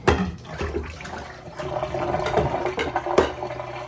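Running water splashes over milkfish pieces being washed in a kitchen sink, a steady rushing flow with irregular splashes and knocks.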